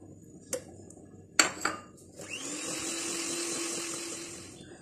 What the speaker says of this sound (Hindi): मक्खन को बहुत अच्छी तरह से तमाम चीजों के साथ इसको मैंने बीट कर लिया है।